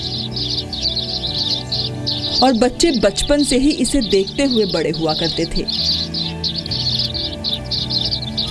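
House sparrows in Jharkhand chirp in a busy, continuous chatter throughout, with a voice speaking over the birds partway through.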